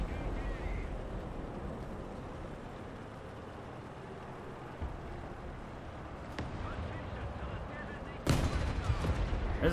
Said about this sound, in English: I'm gonna drop some arty on you.